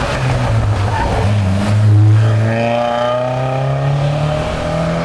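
A vintage rally car over thirty years old races past on a night or day special stage of the Rallye du Vignoble Sèvre et Maine, its loud engine climbing steadily in pitch as it revs hard and nears.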